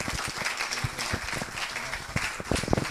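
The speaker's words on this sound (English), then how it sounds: "So everybody give Kyle a big round of applause." Audience applause for a speaker at an angel investor and founders event with the Bali Investment Club, steady dense clapping with scattered louder claps, fairly close and continuous throughout.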